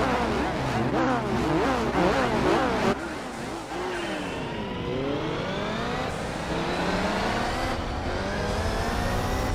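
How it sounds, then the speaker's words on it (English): A race car engine in Gran Turismo 4 revs and shifts through gears repeatedly, its whine rising and falling, loud and close, with no talking. "listen to that engine noise."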